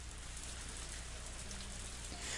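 Heavy rain pours down in the Higurashi video game, a dense and steady hiss of drops that stays loud and unbroken throughout.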